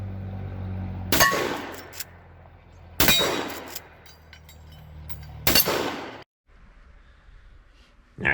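A 45-70 lever-action rifle fires three loud, sharp shots at steel gong targets, each blast ringing out with a brief metallic decay, separated by a couple of seconds of quieter handling and cycling noise.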